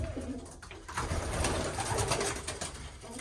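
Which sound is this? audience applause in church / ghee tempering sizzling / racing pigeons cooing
racing pigeons cooing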